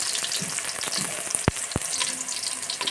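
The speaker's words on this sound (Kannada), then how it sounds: "ಎಷ್ಟು ಸ್ವಲ್ಪ ಫ್ರೈ ಮಾಡ್ಕೋಬೇಕು ನಾಲ್ಕು ಥರದ್ದು ತರಕಾರಿ" Four kinds of vegetables fry in a pan for sambar, giving a close, continuous crackling sizzle with a couple of sharp clicks from stirring.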